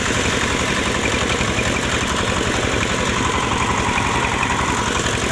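A tractor engine drones loudly and steadily at close range while ploughing a field in third gear for the final finishing pass, with a continuous rumbling throb and no voices.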